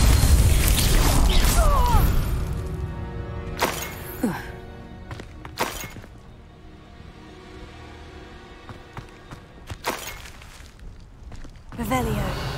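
The Confringo blasting spell erupts in Hogwarts Legacy, a heavy booming explosion at the start followed by scattered sharp impacts and thuds, with a character speaking over parts of it.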